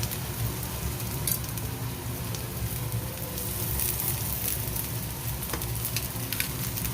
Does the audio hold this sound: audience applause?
no